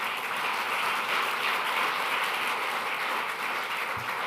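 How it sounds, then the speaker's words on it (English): Steady applause from a large audience at a renewable energy summit, a continuous, fairly faint roll of clapping heard from a distance with no voices on top. "A nice round of applause for both of them."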